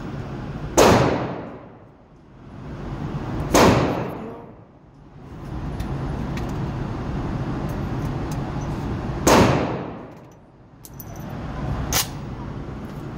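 Loud AR-15 rifle shots at an outdoor gun range, four sharp cracks spaced a few seconds apart, each trailing off in a long echo over steady background noise.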